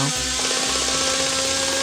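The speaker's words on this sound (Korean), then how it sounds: "이번엔 전기톱이 나무 베는 소리가 요란하게 들려오기 시작했어요." An electric chainsaw roars continuously as it cuts into trees in a pine forest, loud and close, a harsh buzzing motor tone with a slight pitch shift partway through.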